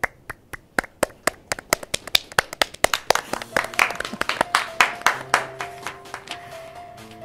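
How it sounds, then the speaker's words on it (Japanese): Sparse hand claps at a Japanese sports team's 2022 season lineup presentation: a few distinct individual claps at first, building into quicker, denser applause, with a sustained tone coming in near the end. "今一度大きな拍手をお送りください。"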